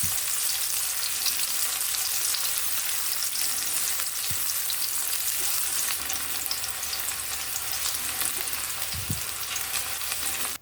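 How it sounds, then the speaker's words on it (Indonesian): Sliced shallots and garlic stir-fry in a pan with a steady, close sizzle that fills the whole stretch, broken by a few soft knocks of a spatula against the pan. "Tumis terlebih dahulu irisan bawang merah dan irisan bawang putih."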